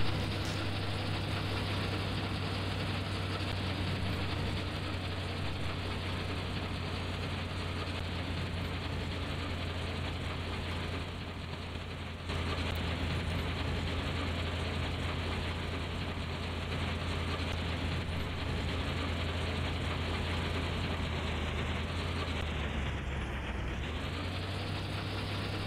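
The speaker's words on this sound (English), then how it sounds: "maybe quicker to drive the combine over" Combine harvester engine in the Professional Farmer 2014 game, a steady low idling drone with a faint knocking pulse, holding constant for the whole stretch and dipping slightly near the end.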